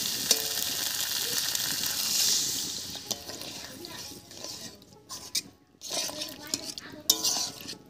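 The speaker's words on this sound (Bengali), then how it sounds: "এবারে জল দেব।" Water hits a pan of sizzling prawn masala, a loud hissing burst that settles into softer bubbling, with clinks of a spoon or utensil against the pan and brief quiet gaps.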